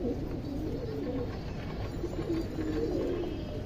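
Indian highflyer pigeons cooing in soft, repeated low calls over a constant dense background hum, close by and continuous.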